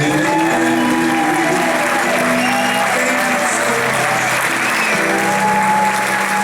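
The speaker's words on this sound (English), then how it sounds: "Give her a big round of applause." Applause for a hula performer at a temple workers' luau fills the clip, steady crowd clapping mixed with tonal music or voices, and a voice briefly speaks near the end.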